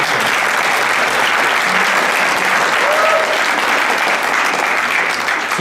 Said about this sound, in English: Let's give a big round of applause to all of the participants.